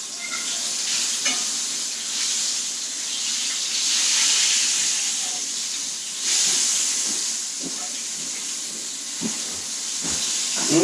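A big piece of dolphin fish fries in a hot pan for a sandwich, giving a loud, continuous hiss and sizzle with occasional clinks and shifts as pieces are flipped and moved.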